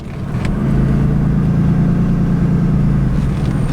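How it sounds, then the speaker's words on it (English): A Ram 2500 diesel pickup engine pulls steadily through a parking-lot turn, its deep, loud rumble holding a continuous low drone for several seconds before easing slightly near the end. "I like the sound of the diesel motor in here."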